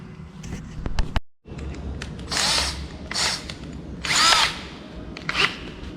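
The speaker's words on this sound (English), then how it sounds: "Using the old drill for this." An old power drill running a tap through bolt holes to clean the threads, whirring in several loud bursts of about a second each with short pauses between, close up after a brief click and a moment of quiet.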